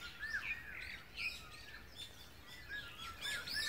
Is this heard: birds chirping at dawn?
yes